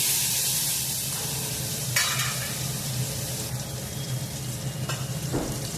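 Tomatoes and garlic sizzle in a pan while being stirred, a steady hiss punctuated by scraping sweeps and a few sharp bursts.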